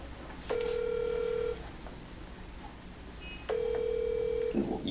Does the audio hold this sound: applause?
no